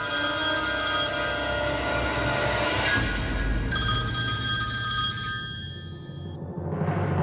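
A telephone rings with a loud, continuous electronic ringtone, steady and close, with a brief change in tone partway through before it cuts off near the end.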